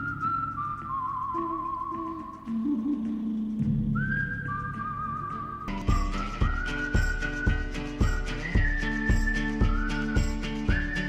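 Whistled melody in a spaghetti-western style song, sustained and clear, later joined by a steady rhythm of stomps and claps beating roughly once per second.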